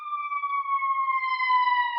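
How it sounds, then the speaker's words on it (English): An ambulance siren passes by, a clear, steady tone that falls slowly in pitch, fairly loud, with no talking over it. "I'll wait till this ambulance goes by."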